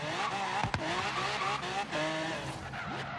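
A V12-swapped Ford GT in Forza Horizon 3 drifts through a downtown street, its tires squealing loudly while the engine howls and surges, with short skids breaking up the steady screech.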